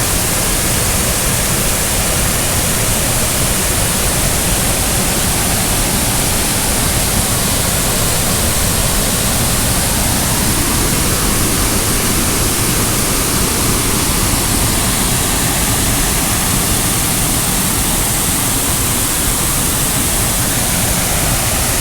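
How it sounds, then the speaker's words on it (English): Powerful whitewater rushes through The Narrows on Estatoe Creek, a loud, steady roar that fills the whole stretch without a break and drowns out any other sound. "You can just hear the immense power of the water coming through here."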